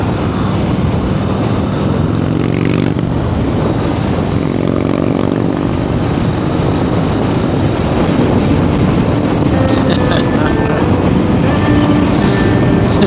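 A V-twin motorcycle fitted with a slip-on exhaust rumbles loud and steady throughout, a continuous thick engine drone with no pauses, heard close up on the road.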